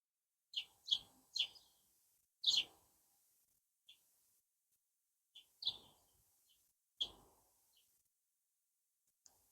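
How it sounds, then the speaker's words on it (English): A fledgling sparrow in a wild Welsh garden, giving short, bright chirps in separated bursts (a few quick ones, then isolated calls), close by and clear against a quiet background. "Little fledgling sparrow having a drink right by where I'm standing."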